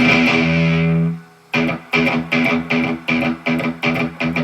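An electric guitar with a Carvin pickup plays through a Yamaha THR-10X amp, giving a sustained clean chord that fades, then a run of evenly spaced chugging notes with very little distortion.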